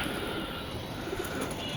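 Pigeons coo softly in a loft, a steady murmur of low calls running on without pause.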